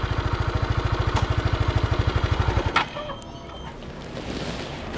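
A motorcycle engine idles with a rapid, even pulsing beat, loud and close, then cuts off abruptly partway through, leaving quieter background noise.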